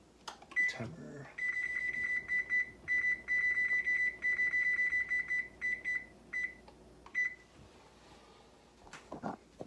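A kitchen timer beeps in a long run of short, steady, high-pitched pulses with brief gaps, fairly loud and close, while a person speaks briefly before and after.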